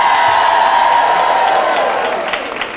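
A large, easily excited audience at a sorority centennial celebration in New York City cheers and whoops loudly, a sustained roar with scattered shouts and clapping that begins to fade at the end.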